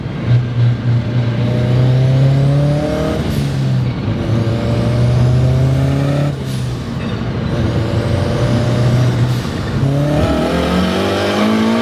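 All-wheel drive car driving hard and shifting through gears, its engine note climbing steadily in pitch before dropping at each of three distinct shifts, loud and close throughout.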